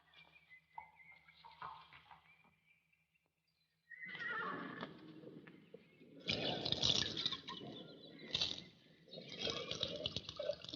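A horse neighs and whinnies loudly several times in long shrill bursts, with a pause before the loudest cries, amid hoof clatter and splashing water.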